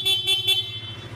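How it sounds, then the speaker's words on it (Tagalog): A 2025 Kawasaki KLX 150S motorcycle horn beeps three times in quick succession at close range, short even toots over a low idling engine. "Busina."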